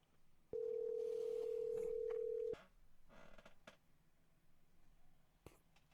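A telephone dial tone before a call, a steady pure hum lasting about two seconds, followed by faint handling clicks and room noise.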